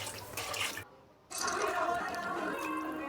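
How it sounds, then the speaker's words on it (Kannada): Six cups of water are poured into a pressure cooker over a spiced mix for vangi bath, a close gushing splash that stops briefly and resumes as a fuller fill. "ನೀರು 6 ಲೋಟ ನೀರು ಹಾಕಿ"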